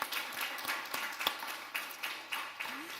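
A small group claps sparsely at a housing board meeting, scattered sharp claps at an uneven rhythm, fairly quiet and brief.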